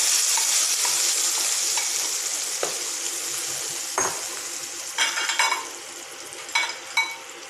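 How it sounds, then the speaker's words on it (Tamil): Tomatoes sizzle and fry with urad dal in a pan for tomato chutney. A steady hiss runs throughout, and a few sharper stirring scrapes come through near the end. "உளுத்தம்பருப்பு செவந்த பிறகு இந்த தக்காளியை அதில் ஊற்றிடலாம்."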